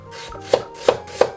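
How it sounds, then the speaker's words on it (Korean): A knife chops half an onion on a cutting board, three crisp evenly spaced strikes close up over a low kitchen background, with no talking. "양파 반개 100g도 잘라줍니다."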